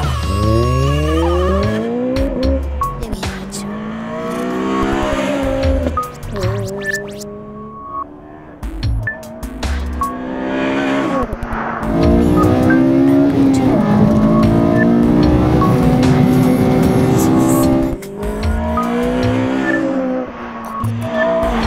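A 2008 Honda Civic Type-R Mugen RR driven hard on a closed road, its engine loud and close, revving up in repeated rising sweeps through the gears with brief drops between shifts.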